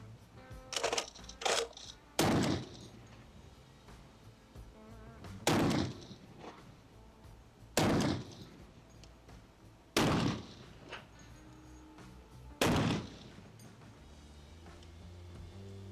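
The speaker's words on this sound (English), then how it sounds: "We don't have to keep shooting it, but one more for the road kid." Five loud, sharp reports from an AK-50 rifle ring out at roughly two-second intervals, each a sudden broadband blast with a short decay, with a quieter crack earlier and no talk.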